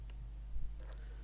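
A single soft computer mouse click on a button, brief and close, over a steady low electrical hum in a quiet room, with no talking.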